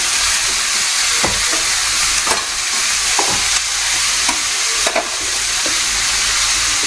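Onions and cashew-cut pumpkin pieces fry in a pan, a dense continuous sizzle with periodic sharp scrapes of a spatula stirring.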